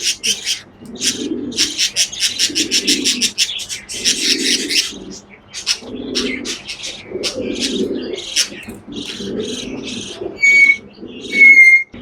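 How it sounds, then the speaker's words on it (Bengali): Chicks begging for food beside their mother, near a budgerigar pair: rapid high chirping bursts repeat steadily and loudly, over a recurring low cooing from pigeons nearby. "মা বাচ্চা কান্না করতেছে খাওয়ার জন্য"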